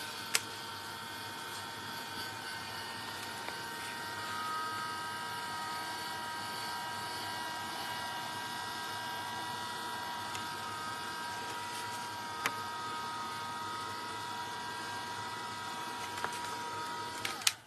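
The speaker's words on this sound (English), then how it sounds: "I'm going to give this a quick waft with my heat tool." A heat tool blows steadily to dry a page of an MDF art journal, giving a continuous close whirring roar with a few faint ticks on top and no talking.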